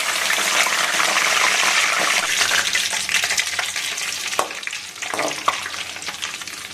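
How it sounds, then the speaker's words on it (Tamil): Curry leaves fry in hot oil for Madras mixture, giving a loud, close, bubbling sizzle that is strongest at first and gradually settles, with a few stirring clinks near the end. "சத்தம் கேட்குது பாருங்கள், கருவேப்பிலை."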